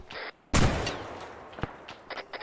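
Gunfire in the Arma 3 military shooter: a loud close shot bursts out and rings into a long decaying tail, followed by sharper, fainter cracks and a few scattered distant pops.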